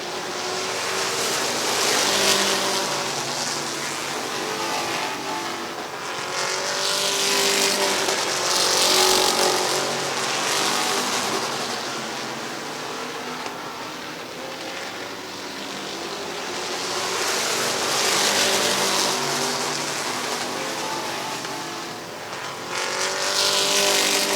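Race cars roaring around Midvale Speedway, a continuous loud engine drone that swells and fades as the pack passes, with tire noise and no voices.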